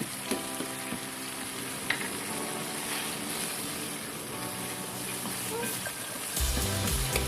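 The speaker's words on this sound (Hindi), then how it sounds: "तो इसमें हम डालेंगे लहसुन अदरक का पेस्ट" Continuous sizzling of garlic-ginger paste frying in a hot pan for white chicken karahi, steady crackle with occasional stirring clicks, close by, no talking.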